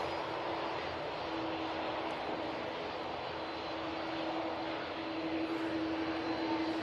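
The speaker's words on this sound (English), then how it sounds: "we're going to be very lucky and have the Aer Lingus come down Victor Alpha right in front of us" An Aer Lingus jet airliner rolls along taxiway Victor Alpha at Manchester Airport with a steady engine whine and a sustained tonal hum over broad hiss, moderately loud and unbroken, with no talk.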